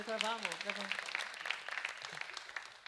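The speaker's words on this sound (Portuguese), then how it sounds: "Palmas para os atores" Audience applause for the actors at a church teaching session, a dense patter of clapping that rises right after a brief voice at the start and carries on at moderate, somewhat distant loudness.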